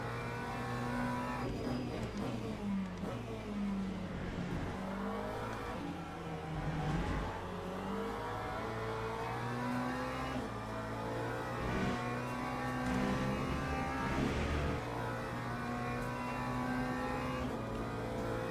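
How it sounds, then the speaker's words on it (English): Race car in the sim racing game Le Mans Ultimate running at full power, a continuous loud engine drone rising and falling through gear changes and revs, with brief tyre squeal and no talking. "Car's running at full power now, which is nice to see."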